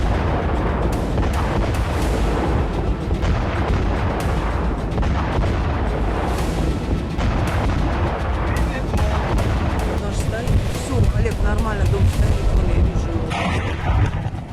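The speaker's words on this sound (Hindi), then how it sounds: "क्रास्नोदर से 1500 किलोमीटर दूर मौजूद तवेर गोदाम में एक और ब्लास्ट हुआ" A massive explosion at the Tver weapons depot in Russia, heard as a continuous deep rumble with dense, rolling booms and crackling blasts sustained throughout at high volume.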